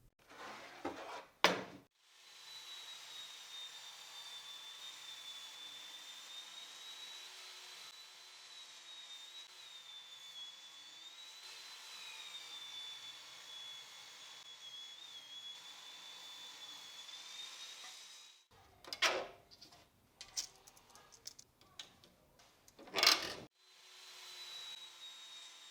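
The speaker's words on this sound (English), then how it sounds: "Here on the table saw, I'll cut all the parts on both sides so they are clean and straight." A table saw rips leftover pallet wood into clean, straight furniture parts, a steady high whine running for nearly twenty seconds before winding down, with a few sharp wooden knocks and clatters at the start and end.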